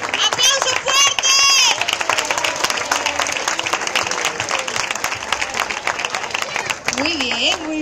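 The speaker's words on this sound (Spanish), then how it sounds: "Un aplauso para los niños." A festival crowd applauds the children at a Vaiana show, sustained loud clapping with cheering and kids' voices mixed in, a voice rising near the end.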